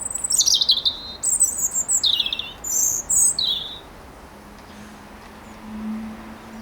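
Birds singing near an allotment garden, a string of bright, rapid chirping phrases in quick bursts during the first few seconds, then fading to quiet outdoor ambience with a low hum.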